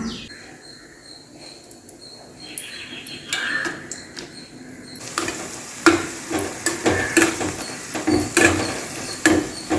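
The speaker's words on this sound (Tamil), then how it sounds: "முழு மிளகா நல்லா காஞ்சிடுச்சு இப்போ நம்ம வறுத்து எடுத்துக்கலாம்" Dried whole chillies roast in hot oil in a pan, with a soft sizzle that grows busier halfway through as a spoon repeatedly scrapes and knocks through them, close up.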